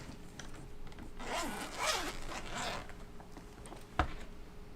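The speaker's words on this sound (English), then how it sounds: "I'll have to open another zipper." A zipper on a craft storage case is pulled open in one long rasping stroke lasting a couple of seconds, fairly close and moderately loud, ending with a sharp click.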